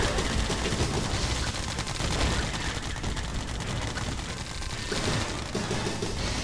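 Rapid unit gunfire in Red Alert 2 rattles continuously as overlapping bursts and volleys, dense and loud across the whole stretch with no pause.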